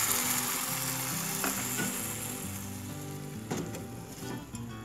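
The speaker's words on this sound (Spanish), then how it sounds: "Ya que desprendió un rico sabor el ajo y la cebolla y está transparente, agregamos la crema de chayote." Chayote cream poured into a pan of sizzling garlic and onion, a steady loud frying hiss with occasional stirring clicks and scrapes, with no talking.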